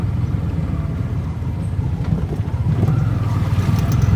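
An auto rickshaw engine runs steadily while the vehicle is driven, a low rumbling drone that holds throughout with some wind noise on top, swelling a little louder near the end.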